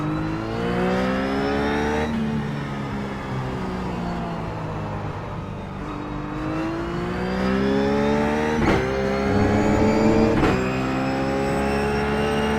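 A Ruf GT3 race car lapping Silverstone's historical layout in iRacing, its engine loud and close throughout, pitch climbing through the gears with sharp drops at each upshift and a steady high-revving drone.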